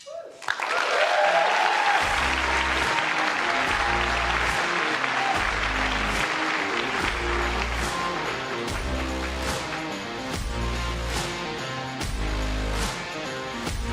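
Loud, sustained audience applause for five finalists at the 2024 President's Innovation Challenge, a dense wash of clapping over a steady bass-heavy music beat that keeps going for the full stretch.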